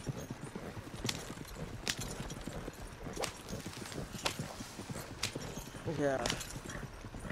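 Horse hooves clip-clopping in the video game Red Dead Redemption 2 as riders keep pace beside a slow wagon, with sharp regular strikes at moderate distance and a brief whinny, under casual conversation between players.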